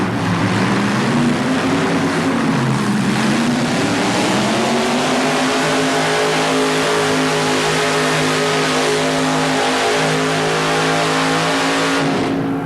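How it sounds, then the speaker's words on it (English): A Jim Lyons–prepared big block Chevrolet engine from Toronto roars at full throttle on a 1987 motorsport pull, a loud, continuous, rasping howl whose pitch climbs and wavers throughout with no voices. "A Jim Lyons prepared big block Chevrolet engine out of Toronto, Canada that goes by the name of the Canadian Warrior."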